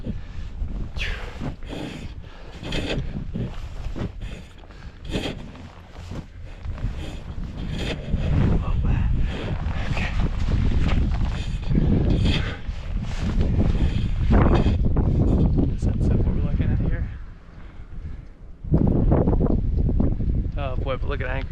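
Strong wind blasting across the summit of Flat Top Peak near Anchorage, Alaska, roaring close against the microphone in heavy continuous gusts that ease briefly near the end before surging again.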